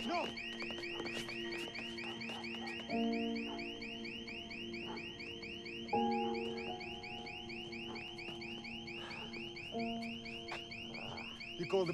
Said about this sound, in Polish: Wezwij policję, wyłączę alarm.